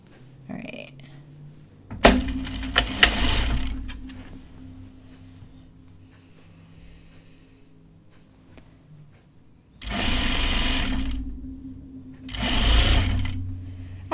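A sewing machine stitching a tunic runs in short bursts, loud and close, with quiet pauses and faint talk in between.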